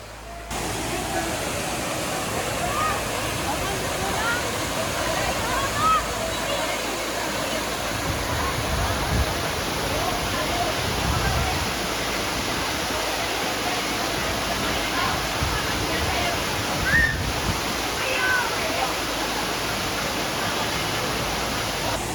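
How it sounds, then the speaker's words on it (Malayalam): A monsoon waterfall in Thrissur, Kerala roars in a steady, broadband rush of falling water, loud and constant throughout with no break. "ഈ ഒരു വാട്ടർഫാൾസ് മാത്രമല്ല കേട്ടോ ഉള്ളത്"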